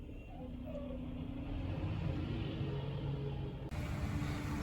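A recycling truck drives past on a neighborhood route, a steady loud engine rumble that builds and holds close by, then cuts off sharply near the end.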